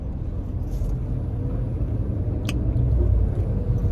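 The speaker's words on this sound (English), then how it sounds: "Traffic." Street traffic rumbles steadily at close range, a dense low roar of passing vehicles that swells slightly toward the end, with a brief high clink midway.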